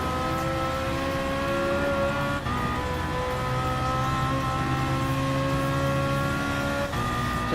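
A BMW M3 GT race car in Gran Turismo Sport holds a loud, steady engine drone with clear harmonic whine, pitch shifting slightly as the throttle is worked, continuous and close for the whole stretch.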